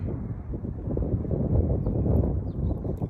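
Wind buffets the microphone outdoors on a walk, a steady low rumble and roar that swells slightly and never lets up.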